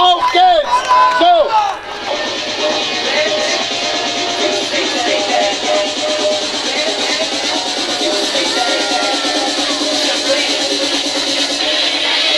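Crowd at an outdoor May Day street event in Kreuzberg, Berlin, applauding and cheering for a rapper: sustained dense clapping and cheers filling the whole stretch, loud and continuous after a brief shout at the start.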